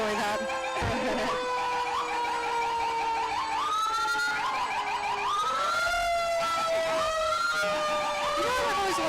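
Sirens from two fire trucks at a Fourth of July parade in Hingham wail loudly, with several rising and falling tones overlapping continuously over crowd noise.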